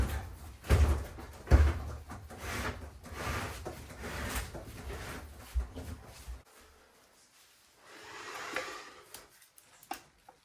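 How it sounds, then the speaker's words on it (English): The door of an LG washer with a dryer stacked on top is pushed closed and lifted, giving several close thumps and knocks, then quieter rustling handling sounds. "And now you can close your door a little bit and pull it up."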